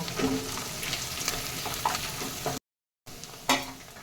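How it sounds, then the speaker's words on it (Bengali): Chicken pieces fry in white oil over a medium gas flame, giving a soft, steady sizzle with occasional stirring clinks and scrapes, broken by a brief silence. "চিকেন ভাজা হয়ে গিয়েছে এবার আমি নামিয়ে নেব"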